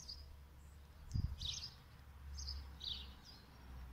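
Faint bird chirps and short calls sound outside a house, scattered over a low steady background hum, with a soft thump near the start.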